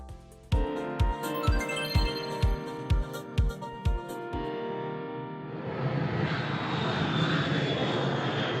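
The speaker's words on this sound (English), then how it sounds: "The bustle of airport terminals." Inside a busy airport terminal, a series of about ten regular thumps or clicks gives way to a steady broadband roar of an aircraft engine that swells and holds, fairly close and loud.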